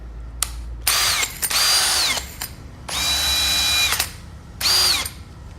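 An Ozito brushless cordless drill, model CDB 6100 with two speed settings, runs close up in four separate bursts, its motor whine rising as it spins up and falling as it winds down. No one talks.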